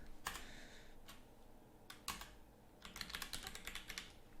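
Fingers tap on a computer keyboard in short irregular bursts of clicks with brief pauses, close but quiet, the keyboard reportedly not working properly.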